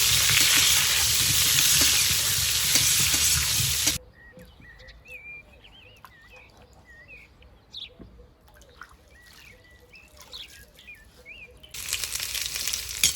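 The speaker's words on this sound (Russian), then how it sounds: "Обжариваю до золотистой корочки. Периодически перемешиваем." Potatoes, garlic cloves and half a hot pepper fry in a kazan with a loud, dense sizzle for about four seconds, then it drops to a quiet stretch with faint chirps before the frying hiss returns strongly at the end.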